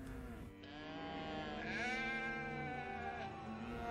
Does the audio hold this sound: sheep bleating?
yes